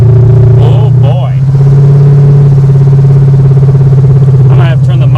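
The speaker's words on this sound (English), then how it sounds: "You're not going to be able to hear us over this loud, loud engine." A 1972 Monte Carlo with a blueprinted engine drones loudly while driving, a heavy steady low rumble filling the cab, with people talking over it throughout.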